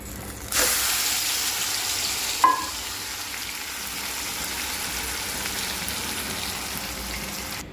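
Ground coconut and spice gravy for a capsicum curry sizzles steadily in a hot pan, a continuous close frying hiss with one brief metallic clink early on.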